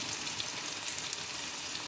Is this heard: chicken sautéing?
yes